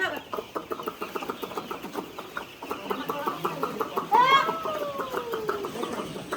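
Chickens cluck repeatedly at a farmhouse in a steady stream of short calls, with a louder rising squawk midway; voices can be heard faintly under the birds.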